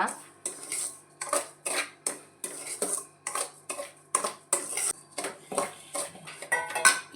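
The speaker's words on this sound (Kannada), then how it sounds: "ಇದನ್ನೊಂದ್ಸಲ ಹೀಗೆ ಮಿಕ್ಸ್ ಮಾಡಬೇಕು, ಕರೆಕ್ಟ್ ಮಿಕ್ಸ್ ಮಾಡ್ಕೊಳ್ಬೇಕು ಈ ಥರ" A spoon scraping and clinking against a bowl in steady, regular strokes while rava (semolina) is mixed with salt for instant rava idli, close and fairly loud with no talking.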